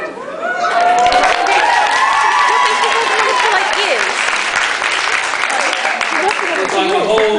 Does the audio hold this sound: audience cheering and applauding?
yes